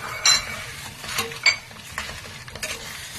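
Dried red chillies and toasted toor dal stirred in a pan, with light clinks and scrapes of a spoon against metal over a faint sizzle, a few louder stirring strokes standing out.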